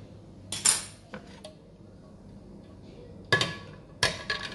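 Jelly cake being set down on a cake dish in a kitchen, a few sharp clinks and taps of dish and utensils, a couple of isolated knocks early and a small cluster of clattering contacts near the end, over quiet background.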